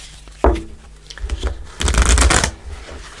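A deck of tarot cards is shuffled by hand: one sharp snap, then a few light riffles and a dense, louder riffle burst near the end, close and alone.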